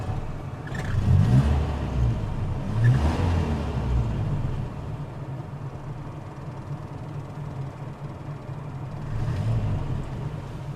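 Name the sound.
classic car engine running and revving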